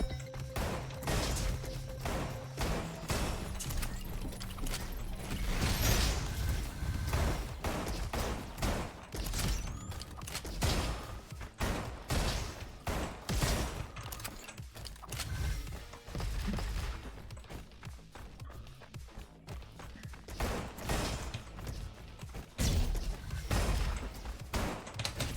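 A six-shooter revolver fires rapidly in the robot shooter RoboQuest, sharp gunshots cracking in quick irregular bursts throughout amid game clatter and impacts.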